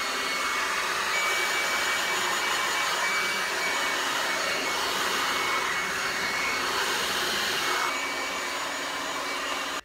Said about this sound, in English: blow dry until you don't feel the product wet on your hair anymore